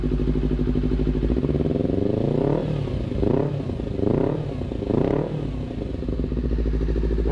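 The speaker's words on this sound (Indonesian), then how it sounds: "Ya, jadi itu suara dari knalpot Leovins ya." A Honda CBR250RR motorcycle with an aftermarket Leovince exhaust idles deep and throaty, then revs sharply three times in quick succession before settling back to a rumbling idle.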